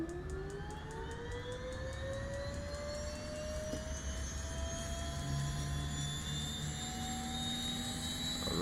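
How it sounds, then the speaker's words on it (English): The right turbine engine of a Turbine Duke light twin aircraft spools up on start, a steady whine climbing in pitch over several seconds with a continuous low rumble beneath it, close and alone. "Alright, let's start the engine."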